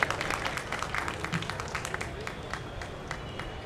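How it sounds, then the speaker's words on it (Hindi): Audience applause welcoming guests at the Dahi Handi Mahotsav, Miller Ground, Patna: a crowd clapping steadily and densely throughout, fairly close, with a sharp burst at the start. "उनके स्वागत के जोरदार ताली होना चाहिए"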